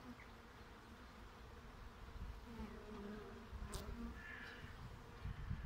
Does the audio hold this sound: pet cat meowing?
no